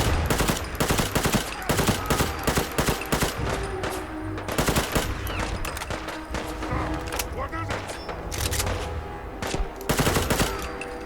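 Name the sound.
gunfire in Fallout 4 video game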